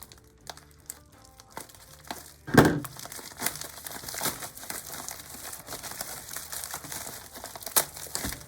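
A tie-dyed shirt is unfolded with crisp crinkling and rustling in uneven bursts, one louder crackle early on, close and moderately loud with no talk.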